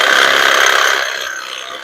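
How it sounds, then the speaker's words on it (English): A power saw cuts through a peach tree trunk at a lump, a loud steady buzzing whine that starts strong then eases slightly in pitch and volume over about two seconds, with no voices. "just chop this one off right at that lump right there."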